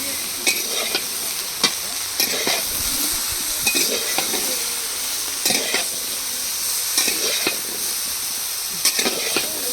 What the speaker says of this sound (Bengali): সবজিগুলো সব কষিয়ে নিচ্ছি